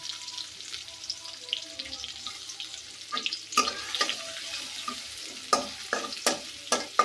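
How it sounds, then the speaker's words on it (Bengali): Chopped onions sizzle steadily in a hot pan, with sharp scraping stirs breaking in repeatedly toward the end. "তো পেঁয়াজ কুচিগুলো আগে দিয়ে দিই। তো দিয়ে দিলাম পেঁয়াজ কুচিগুলো।"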